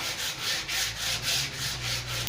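Sanding excess finish off a wooden bathroom vanity by hand, a close, rhythmic rasping of abrasive rubbed back and forth over wood in about six even strokes.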